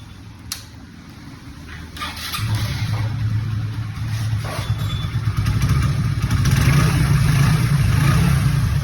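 A Hero Glamour motorcycle with a modified exhaust sound idles and then revs up, its engine note rising and growing louder in steps, close by, with a few faint clicks and no talk.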